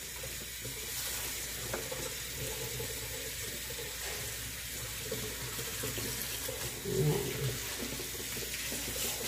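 Tap water runs steadily into a sink while bean sprouts are rinsed, a continuous close hiss with a brief splashy swell near the end.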